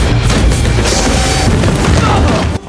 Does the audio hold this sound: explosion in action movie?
yes